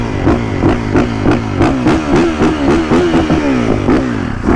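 A motorcycle revs hard during a celebratory wheelie, loud and close, its engine rising and falling in rapid repeated pulses with a rattling clatter beneath.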